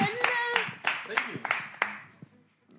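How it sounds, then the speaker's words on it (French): Scattered hand claps from a church congregation welcoming a pastor and a female translator, sounding as a handful of sharp, separate claps close by, mixed with a speaking voice and fading out near the end. "merci d'applaudir pour accueillir Monsieur le pasteur et Madame la traductrice"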